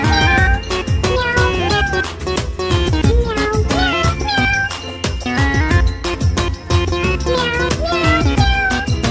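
A singing voice imitates a cat's meow again and again in a children's nursery rhyme over a bouncy, loud music track with a steady beat.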